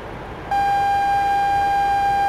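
A sudden steady electronic warning tone starts after a brief moment of low hum and holds continuously, loud and piercing, in the DCS World flight simulator game, flying an Su-25T against ground targets.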